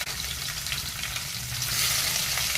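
Curry leaves, fennel seeds, cumin and green chillies sautéing in a pan for a chicken masala gravy, giving a steady close sizzle and fry crackle that builds slightly louder toward the end, with no talking.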